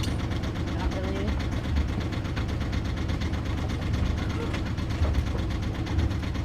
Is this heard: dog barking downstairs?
no